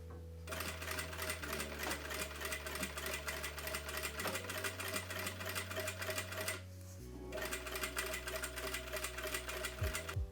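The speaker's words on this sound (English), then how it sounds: "sew directly in a seam line, making sure to catch the lining on the other side" A sewing machine stitches in the ditch along a skirt waistband seam, catching the lining beneath. Its motor runs steadily in close, even bursts, pausing briefly near the seven-second mark before the stitching resumes.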